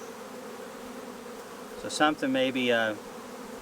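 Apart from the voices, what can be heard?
honey bees buzzing at hive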